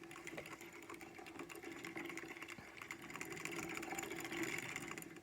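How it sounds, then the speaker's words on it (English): A circular sock knitting machine with a 54-needle cylinder is hand-cranked, giving a steady, quiet mechanical whirring and clicking that runs continuously and swells slightly toward the end. "I'm going to crank to about 35 rows"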